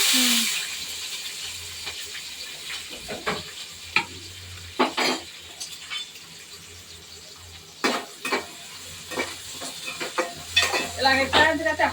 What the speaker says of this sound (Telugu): ఉల్లిపాయ పచ్చిమిరకలు వేస్తున్నా